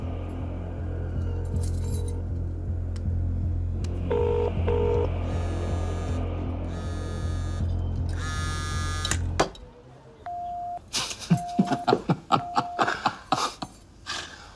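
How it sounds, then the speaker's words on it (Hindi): A phone on speakerphone dials out with a string of distinct keypad tones after a steady electronic hum, then short repeated ringback beeps and clicks follow. "चल फोन लगा उसे।"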